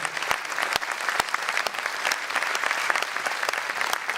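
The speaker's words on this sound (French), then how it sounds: "Merci beaucoup, on peut vous applaudir." Applause from a round-table discussion audience, dense and steady clapping throughout with a few sharper claps standing out.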